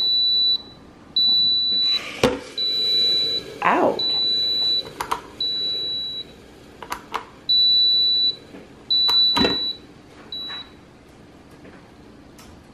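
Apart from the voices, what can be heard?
kitchen egg cooker beeping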